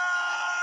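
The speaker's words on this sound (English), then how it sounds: "they heard these heartbreaking screams on a sunny summer day" High, sustained harmonic scream from a Lord of the Rings film, filmed in New Zealand, a single loud piercing wail lasting under a second with no other sound.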